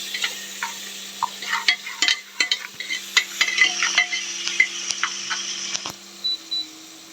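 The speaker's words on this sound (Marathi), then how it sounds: "थोडंसं मीठ घातलं की कांदा पटकन भाजतो." Onion frying and sizzling in a pan for Marathi masala rice, with steady crackle and repeated close stirring scrapes and clicks of a spoon, no talking.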